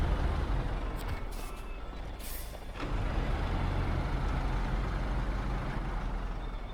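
A GWC TUZ 3308 Gorky mod truck in the video game SnowRunner idles with a low, steady diesel rumble, and a sharp air-brake hiss comes early before the engine hum carries on alone.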